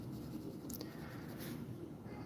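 Pencil or pen scratching across paper while sketching a figure, a steady soft scraping texture with a few brighter strokes, fairly quiet and close, no voice over it.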